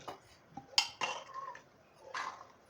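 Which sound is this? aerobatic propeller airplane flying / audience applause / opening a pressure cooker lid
opening a pressure cooker lid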